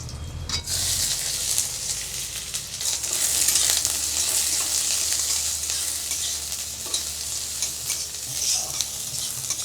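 Cumin seeds, onion and garlic fry in hot oil, giving a steady, close sizzle with bright crackling and occasional stirring scrapes, continuous and without speech.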